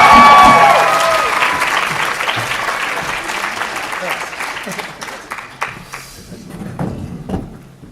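A convention crowd at a comic con panel bursts into loud applause that gradually thins out, with scattered claps and a few thumps continuing as the clapping fades.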